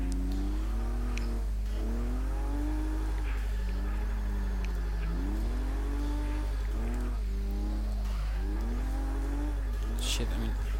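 Lexus SC300 drift build in Forza Motorsport 6, its engine revving and wailing in repeated rising and falling sweeps through drifting corners, steady and prominent, with brief tire squeal near the end.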